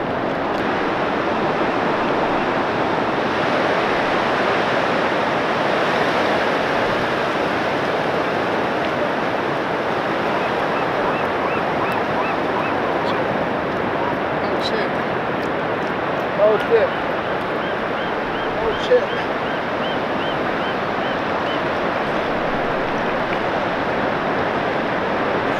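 Ocean waves break continuously on a beach in a steady, loud wash of surf with wind noise on the microphone, and a few brief sounds rise above the roar near the end.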